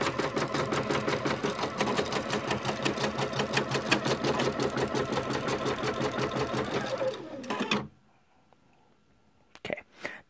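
Sewing machine stitching flannel for a rag quilt, a steady rapid needle clatter running loud and continuous for about eight seconds before stopping abruptly, followed by quiet with a couple of faint handling clicks.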